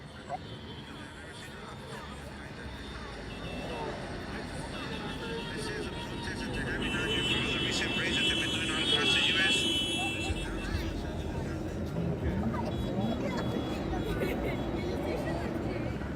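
A police helicopter flies overhead during a riot-police operation near a tunnel in Los Angeles, its steady rotor drone swelling louder through the middle of the stretch, under crowd noise and radio chatter.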